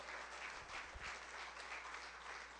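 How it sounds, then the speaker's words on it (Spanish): A church congregation claps together in a steady, even wash of applause, quiet and somewhat distant, with no clear talk over it. "Denle un aplauso al Señor otra vez."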